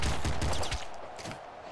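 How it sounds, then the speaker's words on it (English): Rapid machine gun fire in the video game Nuclear Throne, a dense burst of loud, close shots in quick succession that thins out over the second half with a few scattered reports. "I'm going to grab my machine gun again because I prefer it."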